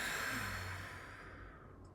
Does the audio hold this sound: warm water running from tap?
no